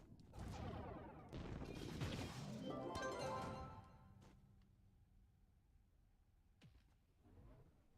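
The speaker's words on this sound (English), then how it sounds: "My shots sound like shattering. My shattered glass." In the video game Trove, a player's shots land as bursts of bright, crackling, glassy shattering in quick overlapping volleys, then fade into quieter scattered ticks and a soft later crash.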